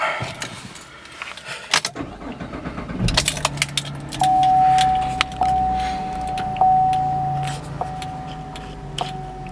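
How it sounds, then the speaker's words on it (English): A 2010 Chevrolet Camaro 2LT RS is started up after a key jingle: the starter cranks, the engine catches and settles into a steady close idle, with a few brief electronic tones over it. "So let's start her up."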